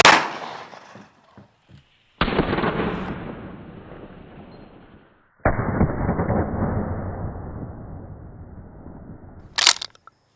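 A 12 gauge shotgun firing buckshot at a Ford truck outdoors, two loud sharp blasts a few seconds apart, each with a long decaying echo, preceded by faint clicks and followed by a short loud burst at the end.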